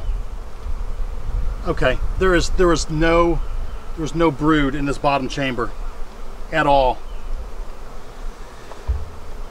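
Honey bees from a docile, queenright hive hum in a steady, dense drone as two beehives are combined into one bee barn, while someone talks close by over the constant buzzing.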